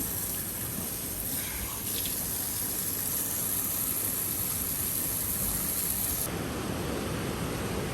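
Water runs steadily from a tap into a tub, a constant close hiss that shifts in tone near the end, with no talking.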